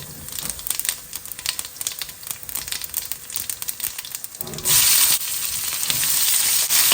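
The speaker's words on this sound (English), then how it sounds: "I'm going to add a teaspoon of cumin and a couple of bay leaves." A teaspoon of cumin and a couple of bay leaves hit hot cooking oil, crackling and spitting close up, then swelling into a louder, steady sizzle toward the end.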